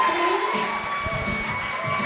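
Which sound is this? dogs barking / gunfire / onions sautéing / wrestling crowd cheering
wrestling crowd cheering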